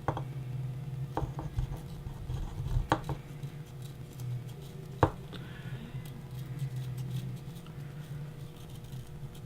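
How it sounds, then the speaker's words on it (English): A razor blade slicing felt off the base of a chess piece, with faint scraping strokes and a few soft clicks and taps of the piece against a surface, close and quiet. "we're just going to take the razor blade and cut the felt off of the piece."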